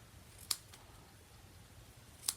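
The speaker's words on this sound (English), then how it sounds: "Get my ribbon scissors." Ribbon scissors cut through a ribbon bow for a scratch-and-sniff strawberry heart tin, making two crisp, close snips spaced about two seconds apart over quiet room tone.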